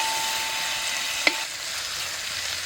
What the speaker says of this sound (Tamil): நல்லா திரிஞ்சு வர அளவுக்கு நம்ம எண்ணெயில் போட்டு வதக்கலாம்